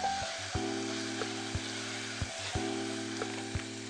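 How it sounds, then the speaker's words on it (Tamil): Onions sauté in a pan for a capsicum and aubergine rice dish, giving a steady close sizzle with a few light stirring taps over a low, even hum. "வெங்காயம் நல்லா வதக்கணும்"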